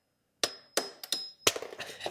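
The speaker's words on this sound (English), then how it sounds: "Carefully tap this with the hammer." A hammer carefully taps a peg drop part during installation on an eRide Pro SS 3.0 electric bike: five sharp metallic knocks in an uneven sequence, close and distinct, with brief ringing after each.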